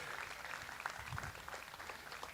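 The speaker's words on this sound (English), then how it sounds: "Let's give him a nice round of applause for his class winner here." A crowd at a county fair swine show applauds a class winner in the show ring, a faint, steady patter of clapping heard from a distance throughout.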